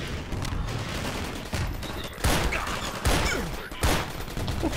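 Video game gunfire from an overpowered gun comes as repeated loud bursts and sharp shots over a steady noisy background, with no talk.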